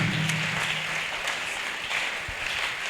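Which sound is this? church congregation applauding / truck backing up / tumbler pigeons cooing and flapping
church congregation applauding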